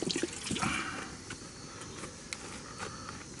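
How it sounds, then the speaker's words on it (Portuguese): Freshly cleaned fish are washed in river water at a riverbank, a steady, fairly soft splashing and trickling with a few brief sharper splashes near the start. "Nós lavamos com a água do rio até agora."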